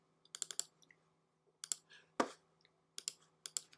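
A few short bursts of key clicks on a computer keyboard, separated by pauses, with one sharper louder tap in the middle; fairly quiet and with no voice.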